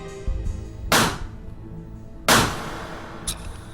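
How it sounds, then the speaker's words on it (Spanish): Two sharp, loud gunshots fired at close range into a gelatin block, about a second and a half apart, each with a brief decaying tail, followed by a softer third impact. "El disparo se efectúa de cerca"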